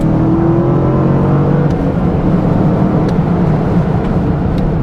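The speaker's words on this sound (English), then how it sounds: "You get that nice rumble, the V8 distinctive sound at the low end." Deep, steady V8 exhaust rumble from a BMW Z8 fitted with Supersprint headers and full exhaust, loud and close, holding a continuous low throb throughout with no talking.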